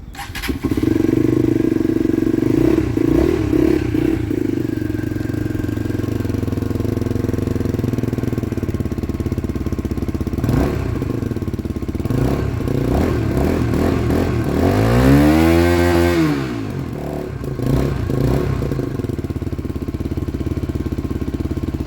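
A Skyteam Tracker 125 motorcycle engine idles loudly and steadily close by, with a short rev rising and falling near the end before settling back to idle.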